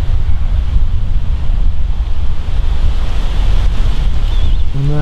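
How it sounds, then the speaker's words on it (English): Strong wind gusting across an English fishing lake, a loud continuous roar buffeting the microphone with a lapping-water wash beneath, no voices present. "And you can probably hear the wind."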